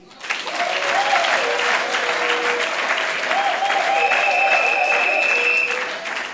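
A political convention assembly breaks into sustained applause, a dense wash of clapping that swells quickly and holds steady for several seconds, with crowd voices mixed in, then tapers at the end.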